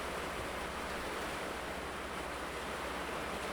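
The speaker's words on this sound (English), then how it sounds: "If you guys hear that sound in the background, it's rain." Heavy rain pours down outside with big drops, a dense, steady roar of broadband noise that fills the whole stretch without a break and with no voices over it.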